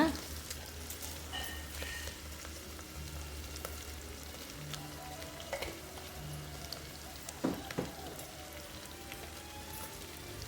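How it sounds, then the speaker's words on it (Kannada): Broken wheat is roasting with turmeric in a pan, giving a faint, continuous sizzle and dry crackle with occasional stirring scrapes, all quiet and up close. "ಸ್ವಲ್ಪ ಅರಿಶಿನ ಹಾಕ್ಕೊಂಡು ಹುರ್ಕೊಳ್ಳಿ ಇದನ್ನ."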